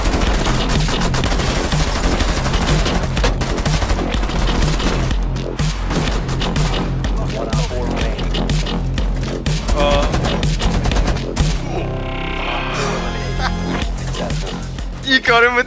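Rapid turret gunfire in Rainbow Six Siege, loud bursts of automatic shots with booms and game effects under excited players talking.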